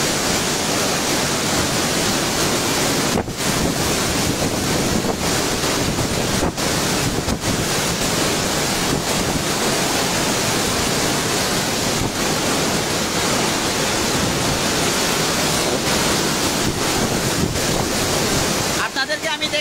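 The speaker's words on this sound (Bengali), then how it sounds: "এখন বৃষ্টি হচ্ছে সেন্ট মার্টিনে, প্রচুর বৃষ্টি হচ্ছে এবং সাথে বাতাসও আছে।" Heavy rain and strong wind lash St. Martin's Island during Cyclone Mocha, a loud, continuous roaring wash of rain and gusts buffeting the microphone without a break, with tin roof sheets being torn away in the storm.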